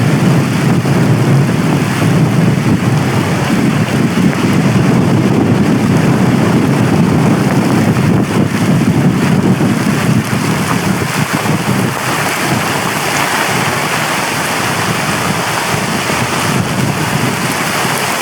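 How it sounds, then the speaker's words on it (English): Heavy wind and rain batter an island campsite in a steady, loud roar of gusts and rainfall that continues throughout with no break and no voices. "Heavy wind, heavy rain."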